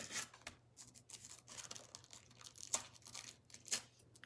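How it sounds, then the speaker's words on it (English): An emery board rasps against a small piece of a rustic wooden bird house, a faint dry scratching in short irregular strokes with a few sharper scrapes, heard close with no talking. "I'm just going to try and cut it with my"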